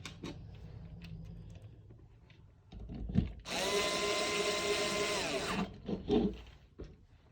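A power driver runs steadily for about three seconds, driving screws into a 3D-printed plastic BRN-180 kit for a Tokyo Marui MWS, with a few light handling clicks before and after.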